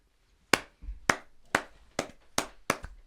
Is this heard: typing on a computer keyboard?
no